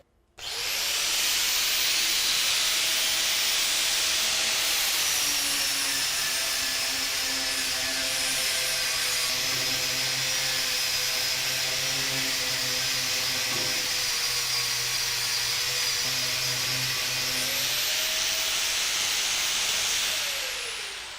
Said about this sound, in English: So we will do this on the flap wheel that we have.